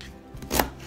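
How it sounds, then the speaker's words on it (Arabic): A single knife cut through a celery stalk on a cutting board gives one brief, crisp chop in an otherwise quiet kitchen. "نقطع غصنين من القرفس"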